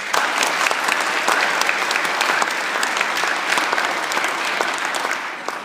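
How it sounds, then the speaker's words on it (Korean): Church congregation applauding steadily at a 30th-anniversary founding celebration with a praise event, a dense, continuous clapping from a large crowd filling the room throughout, with no talking. "그리고 하나님께 감사의 박수 한번 올리시죠."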